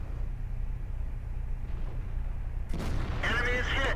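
A tank gun fires a single loud, booming shot at an E50 tank in World of Tanks, likely from a T28. A steady low engine rumble runs beneath it, and a brief echoing rattle follows the blast.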